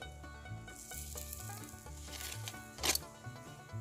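Honey bread cooks in a pan outdoors at a bushcraft campfire, giving a faint, steady sizzle with a slightly louder crackling flare near the end; no one speaks.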